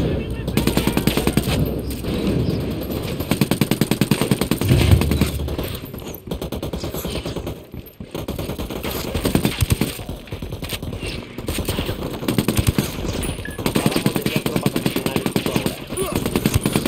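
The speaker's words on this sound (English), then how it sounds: "I'm shooting these fuckers." Ghost Recon Wildlands gunfire as enemies are shot: loud, rapid automatic bursts rattle almost nonstop, with brief pauses and game voices mixed in between volleys.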